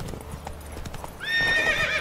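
A horse in The Witcher 3 game trots with soft rhythmic hoof clops, then lets out a loud, close whinny that carries to the end, with no talk over it.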